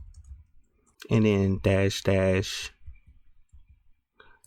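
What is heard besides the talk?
typing a Linux command on a computer keyboard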